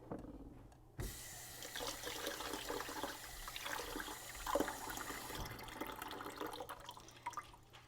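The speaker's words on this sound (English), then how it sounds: "I've got 2 cups of jasmine rice that I'm going to rinse." Two cups of jasmine rice being rinsed under running tap water in a home kitchen, with a continuous, fairly quiet splashing and trickling stream that starts abruptly and continues to the end, no talking.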